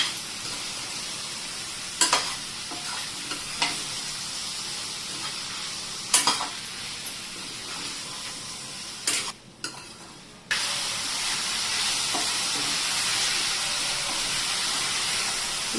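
Mixed vegetables, including peas, sauté in a pan for veg pulao, a steady close sizzle with occasional utensil scrapes and knocks, then a louder, brighter hiss as stirring turns the contents.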